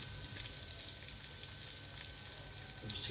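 Onion, garlic and chili frying in a pan for a quick carrot, bean and potato stir-fry, giving a steady, faint, even sizzle throughout with no talking.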